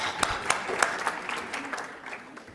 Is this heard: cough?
no